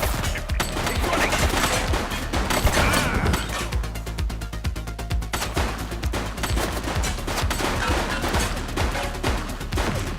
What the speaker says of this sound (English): Shots fired!